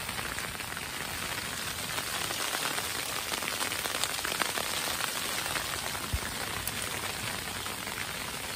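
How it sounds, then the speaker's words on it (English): Freezing rain and ice pellets patter steadily on a Pomoly Stove Hut 70 at a winter camp, a dense, crackling hiss with scattered sharper ticks, close and continuous, with no talking. "it sounds like we're getting some ice. It's like rainy, wet, icy stuff."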